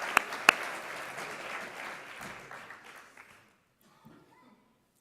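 Audience applause after a talk on rural social life, a short, modest burst of clapping with a few sharp close claps that dies away quickly into near silence.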